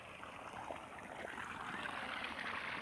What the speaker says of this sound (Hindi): और देखिए पानी धारा बहुत तेज़ से चल रहा है। ये देखिए यही वो पाइप है, रातों दिन ऐसे चलता रहता है